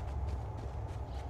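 Soft, rhythmic footsteps in Call of Duty Black Ops 4 Blackout, a few muffled steps sounding at moderate distance over a low rumbling background.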